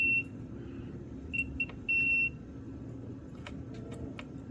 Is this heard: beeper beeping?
yes